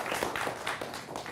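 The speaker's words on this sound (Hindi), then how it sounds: "तालियों के साथ इन सबका अभिनंदन करिए।" Studio audience at a televised Hindi debate on the hijab issue applauding the panel guests, a steady wash of many hands clapping at moderate level with no speech over it.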